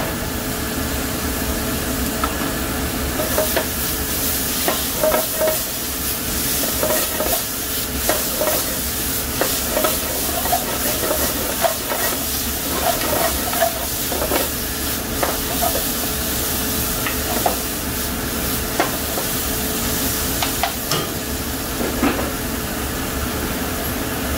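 Onion and tomato sauce sizzles loudly in a pan for a mushroom curry, with a continuous dense hiss and repeated scraping and clattering as it is stirred, up close and without talk.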